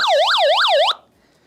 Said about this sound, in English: it sounds the siren and it flashes